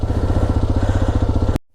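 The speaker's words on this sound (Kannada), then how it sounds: "ನೋಡ್ಲು ಬರ್ತಾ ಇದೆ ಗಾಡಿ" Motorcycle engine running on a rocky hill trail, a loud close throbbing putter with a fast regular pulse that cuts off abruptly near the end.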